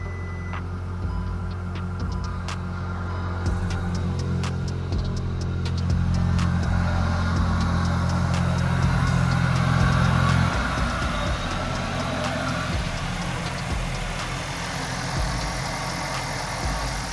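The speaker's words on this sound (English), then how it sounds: "the car is idling now" A 2024 VW GTI, freshly repaired after a wreck and a transmission install, idles steadily with a low, even engine hum. It swells slightly midway, then settles back to a smooth, quiet rumble, with no talking.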